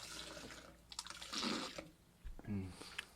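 A man spits out a large mouthful of regurgitated water in a forceful splashing gush, followed by a short burst of water and spluttering, with brief voices in the background.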